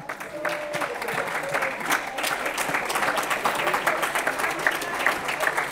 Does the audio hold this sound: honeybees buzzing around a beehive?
no